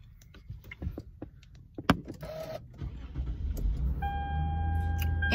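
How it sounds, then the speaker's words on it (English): A car being started after doors and keys handling: scattered clicks and a power window whir give way to an engine cranking and catching, then a steady idle hum with a faint electronic tone. "We're going to start the car."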